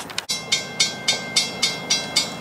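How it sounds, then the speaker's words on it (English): A train passes on railroad tracks, with sharp, evenly spaced wheel clacks coming about every quarter second, close and loud, with no voices. "here comes another train"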